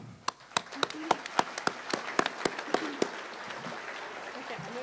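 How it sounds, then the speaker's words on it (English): Crowd at a graduation ceremony clapping for a basketball team, a loose patter of hand claps that builds into steady applause from a sizable audience, with some voices mixed in. "We give a round of applause for the basketball boys here."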